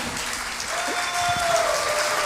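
A standing ovation for businesswoman Aline Lobo at the Sebrae Knowledge Forum, with steady, moderately distant crowd clapping that swells slightly and holds throughout, a faint tone running above it.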